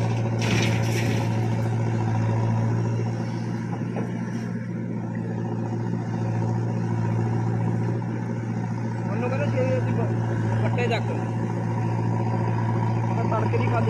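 A line of tractors drives along a road near Ropar in Punjab, giving a steady low engine drone that runs throughout, with voices close by.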